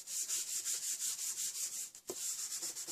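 An embossing buddy is rubbed over vellum cardstock in quick, steady back-and-forth strokes, a close, soft hissing swish with one brief pause, and no one talking.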